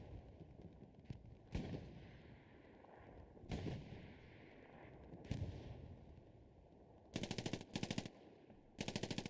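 MG42 machine gun fire in the WWII shooter Hell Let Loose: sharp single reports echoing at a distance, then several dense, loud bursts of rapid automatic fire close by near the end.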